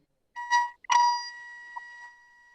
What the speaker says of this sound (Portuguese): eu ouvi a campainha aí de novo